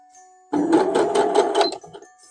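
A sewing machine stitches fabric scraps in a short close burst of rapid mechanical chatter, starting abruptly from near silence and stopping after about a second and a half.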